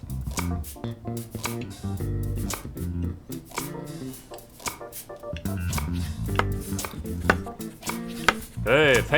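Knife chopping on a cutting board in the restaurant simulator game Chef Life, a fast steady run of crisp chops layered over background game music.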